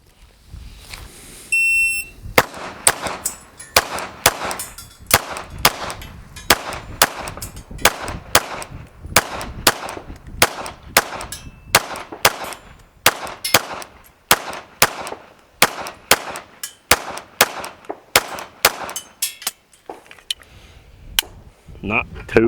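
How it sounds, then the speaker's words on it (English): Rapid strings of pistol shots from a Glock emptying a 25+1 round magazine, loud sharp cracks in steady bursts with brief pauses between strings, at an outdoor practice range. "Load up again another 25 rounder and shoot confirmation 3"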